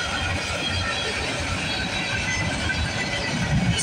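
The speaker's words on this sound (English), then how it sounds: "The symbol on this train is CSX" CSX freight train M634 rumbles past close by, a loud steady roar of wheels and railcars with faint squeal.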